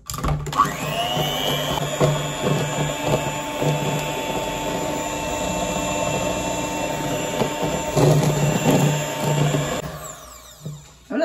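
An electric mixer whirs steadily for about ten seconds, beating milk cake batter with vanilla and milk, loud and close with a slight change in pitch near the end before it cuts off.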